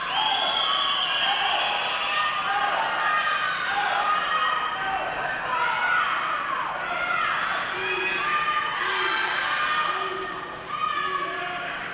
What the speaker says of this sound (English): The crowd would cheer on our Lady Panthers from start to finish